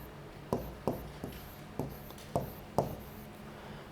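A pen tapping and stroking across a Clevertouch interactive whiteboard screen, about eight quiet, distinct knocks at an irregular pace, close and faint against a low room hum.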